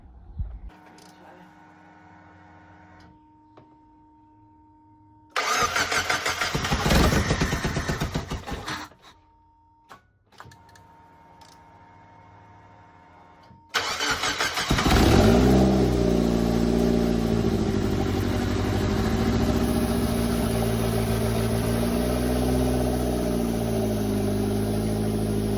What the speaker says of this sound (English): the car is running and everything seems to be okay